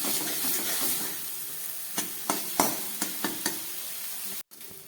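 Spices fry for an egg and new potato curry, a steady sizzle with a series of spoon scrapes and stirring knocks in the pan, then a brief cut to silence near the end.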